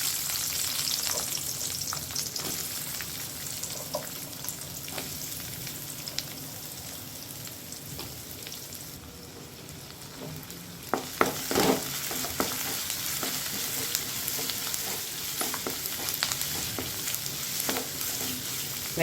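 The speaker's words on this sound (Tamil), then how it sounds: "வெங்காயம் இப்போ ஓரளவு நல்லா வதங்கிடுச்சு" Onions fry in a pan for a spicy chutney, giving off a continuous close sizzle. A spoon occasionally scrapes and clatters as the onions are stirred, with no talk.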